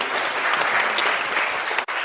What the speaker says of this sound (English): Steve, by the way, give him a round of applause,